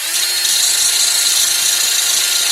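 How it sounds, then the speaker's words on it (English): A handheld drill fitted with a Dremel-style bit grinds away the remains of a front wheel bearing, a steady, loud high-pitched whir held without a break throughout. "I have a drill and then I have a Dremel bit"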